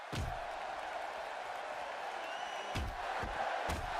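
A large crowd cheers and shouts continuously at an indie wrestling show with matches spilling onto a concrete floor, a steady dense roar with a few sharp slam-like thuds breaking through.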